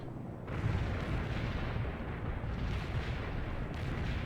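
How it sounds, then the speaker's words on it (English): Close-quarters artillery barrage in the World in Conflict strategy game: a dense, continuous rumble of overlapping booms and blasts, loud and sustained throughout with no voices. "now we gotta do close quarters artillery"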